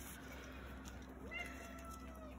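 A cat gives a soft meow indoors against a quiet steady hum, one faint rising-and-falling call near the middle, with no talking.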